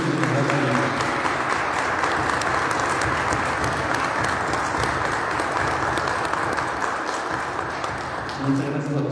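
Sustained applause from a church congregation at Mass fills the space loudly and evenly for several seconds, a dense wash of many hands clapping, with a voice briefly audible near the end as it fades.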